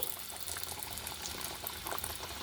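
Potato and rice papad chips sizzle in hot frying oil on a low flame, a dense, steady crackling and bubbling hiss that continues evenly throughout, close and moderately loud with no voices.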